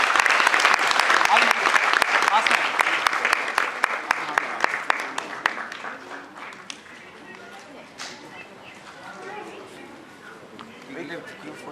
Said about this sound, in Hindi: जोरदार तालियां हो जाए छोटे छोटे बच्चों के लिए।